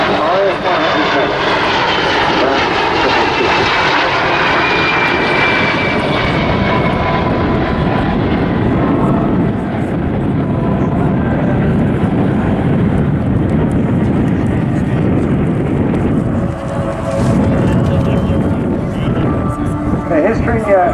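Historic aircraft of a Norwegian Air Force squadron fly past at a seaside airshow, with a loud propeller-engine roar that dominates, then gradually fades and shifts in pitch as they pass, with wind buffeting the microphone.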